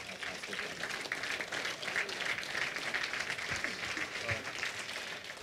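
An audience applauds a klapa singing group at the Raspivano Bibinje festival: steady, dense clapping from many hands for over five seconds, moderately distant and even in intensity.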